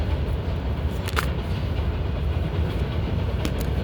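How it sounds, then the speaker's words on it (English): Trains rumble by in the background with steady low-pitched rail noise and a few faint clicks, continuous and moderately loud throughout. "Excuse the trains in the background."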